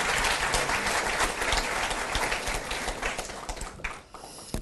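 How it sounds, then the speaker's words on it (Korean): Audience applause fills the room at a government unification ministry inauguration ceremony, a dense, steady wash of many hands clapping that holds loud for about four seconds before thinning out. "다시 한번 옆자리 우리 식구들에게 박수 한번 크게 보내주시기 바랍니다"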